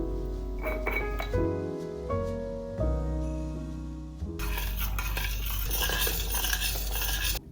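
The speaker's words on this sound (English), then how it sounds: "We're gonna start by adding the butter, sugar, the spice mix, and the syrup into a pot and let the mixture simmer for a few minutes." Butter, sugar, spice mix and syrup stirred in a pot: metal utensil clinks and scraping against the pot, then a bubbling, sizzling simmer that fills the second half.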